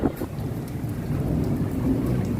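Heavy monsoon rainstorm with thunder, a loud continuous rain roar and low rolling rumble filling the whole stretch, close and dense, no voices.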